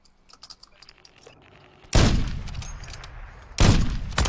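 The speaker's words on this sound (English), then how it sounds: "He's sniping back at us there, too." Two loud sniper shots fire in a video game match, the first near the middle and the second close to the end, each leaving a long rumbling tail; faint clicking and quiet game sounds come before them.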